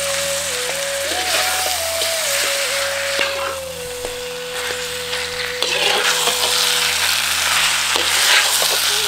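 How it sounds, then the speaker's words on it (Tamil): Chicken pieces sizzle loudly in masala with yogurt while being stirred for a Malabar chicken biryani, a dense, steady frying hiss with occasional scraping stirs and a faint background tone running through, no voices. "சேர்த்துக்கிட்ட கறியை மசாலாவோட நல்லா பெரட்டி விட்டுட்டு 4 தேக்கரண்டி தயிரையும் சேர்த்து நல்லா கலக்கி விட்டுருவோம்"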